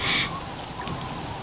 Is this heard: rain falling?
yes